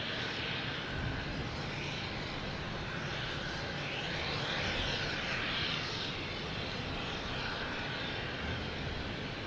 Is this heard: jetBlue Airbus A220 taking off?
yes